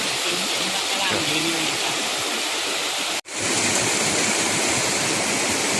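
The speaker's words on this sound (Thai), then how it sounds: "น้ำตกแม่ปาน หรือที่ฮ้องกันว่าน้ำตกสีสังวานนะครับ สูงนะครับสูง" Mae Pan waterfall on Doi Suthep in Thailand roars as a close, loud, continuous wash of falling water, briefly cut out for an instant midway before resuming.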